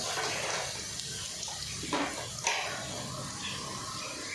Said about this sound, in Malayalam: കലക്കി വെച്ചിരിക്കുന്ന മോര് ഒഴിക്കണം